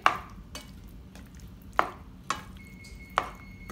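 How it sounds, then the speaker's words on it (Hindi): Cooked chicken and vegetables being stirred into pasta in a pan for a baked white-sauce dish: a few sharp spoon knocks and scrapes against the pan, spaced irregularly over quiet, with no talking. "हम इसको अच्छे से मिक्स करेंगे"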